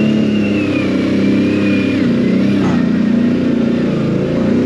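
An off-road vehicle engine in four-wheel drive low on a rough trail near Bear Skull Falls in the Moccasin Gap area, with a loud, close, steady mid-pitched drone and rising and falling revs.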